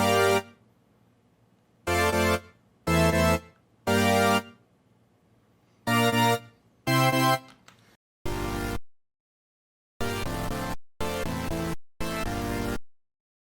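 Electronic synth chords from a remix drop hit in punchy, evenly spaced blocks, loud and close, some sustained and some cut short, with gaps of silence between.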